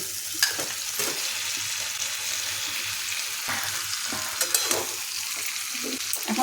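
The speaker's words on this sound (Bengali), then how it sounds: "আলুটা মশলার সাথে কষিয়ে নেব আলুটা খুব ভালোভাবে কষিয়ে নিলাম" Boiled potato pieces sizzle and fry in a spice masala while being stirred, a steady close crackle with occasional scraping knocks of the spoon against the pan.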